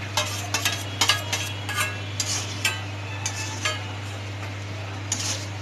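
Egg being stirred into Maggi noodles in a pot over a low gas flame, soft scraping strokes and light utensil clinks at an irregular pace, with a steady low hum underneath and no talking.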